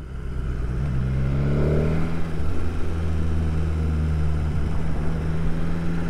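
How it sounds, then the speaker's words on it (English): A BMW S1000R Sport motorcycle engine hums steadily at low speed in traffic, its even drone rising briefly in pitch before settling, with a faint ticking buzz underneath. "It's sort of a little ticking noise to that engine, like a brrrr."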